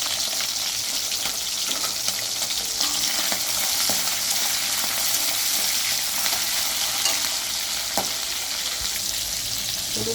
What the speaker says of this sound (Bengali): তো চিংড়ি মাছটা তো ভাজা হয়ে গেছে।